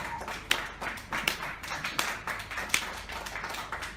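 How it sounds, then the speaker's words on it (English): At a comedy gig in a cramped corridor venue, a few scattered, uneven claps ring out close by from the audience, sparse and hesitant rather than full applause, with no talk. "I like the pity clap somebody gave it."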